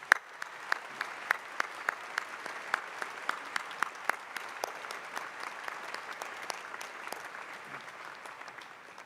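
Steady applause from a sizable crowd at a university commencement ceremony, sustained for several seconds at a moderate distance with sharp individual claps standing out.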